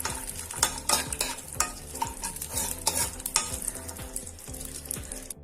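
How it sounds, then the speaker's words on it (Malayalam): Cashews and raisins frying in ghee with frequent stirring, spoon scrapes and clicks over a soft continuous sizzle, close up with no talk. "നെയ്യിൽ കുറച്ച് കശുവണ്ടി മുന്തിരി നമുക്കൊന്ന് വഴറ്റിയെടുക്കാം."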